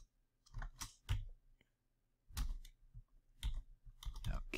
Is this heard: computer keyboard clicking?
yes